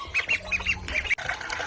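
Ducks and chickens being fed, giving a close, busy burst of repeated squawks and quacks that overlap in quick succession.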